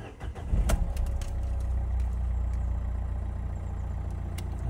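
A 2019 Nissan NV200 1.5 dCi Tekna diesel van cranks briefly and fires, then settles into a steady, close, low idle rumble with no talking.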